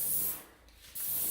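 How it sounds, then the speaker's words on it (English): A paint spray gun sprays a coat on cabinets, a close, loud steady hiss that dips briefly in the middle and then resumes, with no talking. "We're just going to keep the gun spraying."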